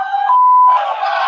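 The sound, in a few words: crowd chanting let's go Brandon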